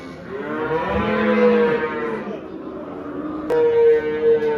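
Cattle at a Vezirköprü livestock market, a crossbred Jersey–Montafon cow with her calf nearby, moo loudly in two long drawn-out calls, the second starting abruptly after a short pause, with faint market murmur behind.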